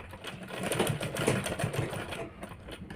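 Sewing machine stitching a cord onto a size-30 blouse, a steady close whirring rattle of the needle running continuously for a few seconds, then easing off.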